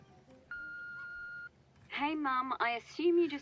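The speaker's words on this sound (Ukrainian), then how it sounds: "Там телефон дзвонить." Telephone ringing in the horror game Copycat: a steady electronic tone sounds for about a second, followed by loud speech over it.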